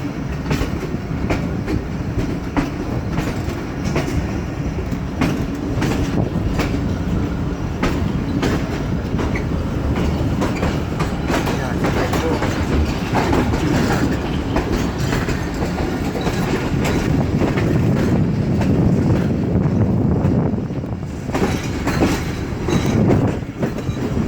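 The Shah Hussain Express runs steadily along the main line toward Khanewal, heard from on board as a continuous rumble with rhythmic wheel clatter over the rails.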